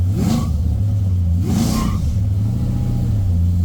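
A supercharged 1968 Chevrolet Camaro engine, close and loud, revving hard in two quick swelling bursts over a deep rumbling idle as the car pulls away.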